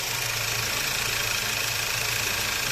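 A 2013 Skoda Superb 1.8 TSI petrol engine, freshly repaired after heavy oil consumption and a burnt valve, idles steadily and evenly up close, a constant low hum and mechanical whir with no talk.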